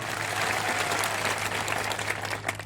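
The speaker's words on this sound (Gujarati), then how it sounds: "તમામ પોલીસ અધિકારીઓ માટે પણ જોરદાર તાળીઓ પાડી લઈએ" Steady, dense applause fills a crowd at an Aam Aadmi Party political rally in Nasvadi, Gujarat, clapping continuously and loudly for the police officers on duty, with a low electrical hum underneath and no talking.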